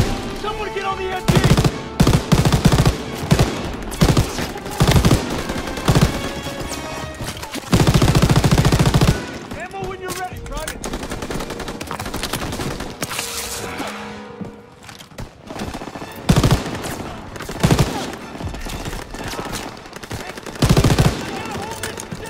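Machine gun fire and gunshots crackle in sustained, dense bursts during a World War 2 D-Day battle in Call of Duty, with explosions and shouting over loud continuous combat.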